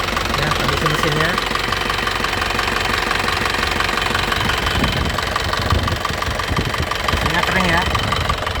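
A 2007 Isuzu Panther Grand Touring engine idles with a steady, loud mechanical rumble and a diesel-like knocking clatter throughout. A voice talks over it.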